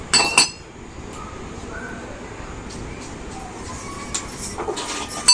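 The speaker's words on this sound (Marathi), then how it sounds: "बघा, जिरे आणि मिरची टाकून घेतलेली आहे. आता मी चांगलं ठेचून घेते." Cumin and green chillies are crushed in a mortar and pestle, giving sharp clinking knocks at the start, a quiet stretch, then a cluster of pounding strikes near the end.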